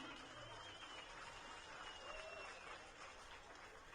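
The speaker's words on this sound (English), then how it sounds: "Big round of applause for Teddy." A ballpark crowd at a college baseball game applauding the bat boy, a steady wash of distant clapping that fills the whole stretch at low level.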